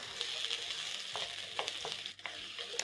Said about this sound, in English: you're going to saute the onions until they have a nice golden brown color